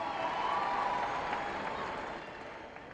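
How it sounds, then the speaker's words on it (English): Mourners at a memorial celebration of a late person's life give a round of applause, a soft, distant crowd clapping that slowly fades, with faint voices mixed in. "Let's give him a big round of applause."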